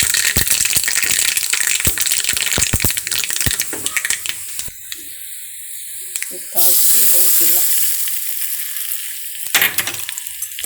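Dried red chilies frying in hot oil as a tempering, a loud crackling sizzle with rattling stirs and scraping, settling to a softer hiss before bursts of crackle return.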